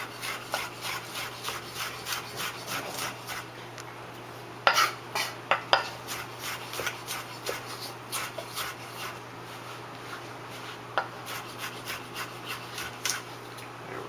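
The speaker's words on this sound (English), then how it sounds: "Look, I'm cutting shallots right now. Thinly sliced." Knife thinly slicing shallots on a board in a home kitchen, a steady run of soft, close taps and scrapes with a few sharper knocks, no talking.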